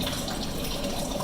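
Water drains in from the stone layer beneath a concrete floor in a new woodshop, a steady close gushing rush like a running tap, continuous and even throughout.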